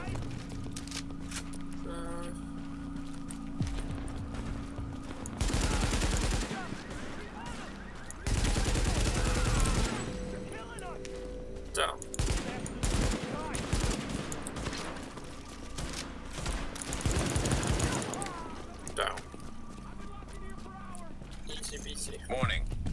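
Bursts of gunfire in Tom Clancy's The Division, repeated volleys and single shots of varying loudness across a running firefight, with a voice talking over parts of it.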